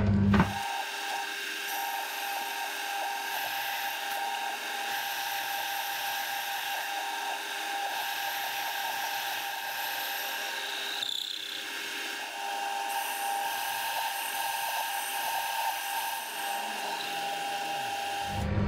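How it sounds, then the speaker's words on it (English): A machine plunges a three-quarter-inch hole through metal on a Ronaldson and Tippet water hopper, giving a steady, high-pitched whine that holds for the whole stretch, with a brief dip in the middle and no talking. "I'm going to attempt to plunge a three-quarter hole through both of them."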